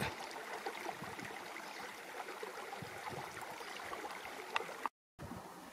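River water flowing steadily through a wild plains landscape, a continuous broadband rush with faint trickles, close and even throughout, no voices.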